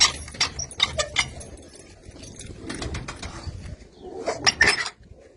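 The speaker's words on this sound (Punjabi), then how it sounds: "ਨਿੱਕੀਆਂ ਨਿੱਕੀਆਂ ਛੋਟ ਛੋਟੀਆਂ ਕਬੂਤਰੀਆਂ ਨੇ ਇਹਦੇ ਵਿੱਚ" Pigeons and small young doves in a loft coop, giving soft low coos amid scattered wing flutters and light rustling, with sharper clatter at the start and near the end.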